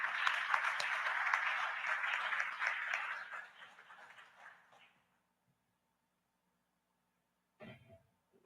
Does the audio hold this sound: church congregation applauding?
yes